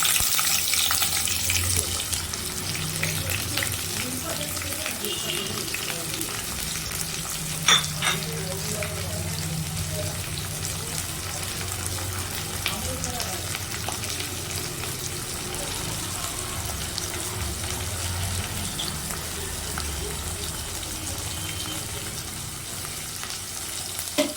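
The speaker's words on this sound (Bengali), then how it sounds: "পেঁয়াজটা আমি ভাজছি, পেঁয়াজটাকে একটু ব্রাউন করেই ভেজে নিতে হবে।" Chopped onion and a dried red chili split in two fry in a pan with a steady, moderately loud crackling sizzle that runs unbroken throughout, with an occasional faint clink.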